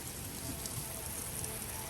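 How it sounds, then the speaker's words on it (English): Steady rain falls outdoors over a garden where a privacy hedge has just been planted, a continuous fine hiss of drops on surfaces with no voices, evenly loud throughout. "We got more rain coming down from heaven"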